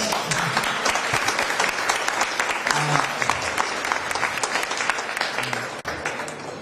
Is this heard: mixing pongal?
no